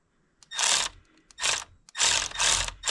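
Ratchet snugging bolts on the aluminum thermostat housing of a 2021 Jeep Wrangler JL 2.0, four close, loud bursts of rapid clicking separated by short pauses, heard alone.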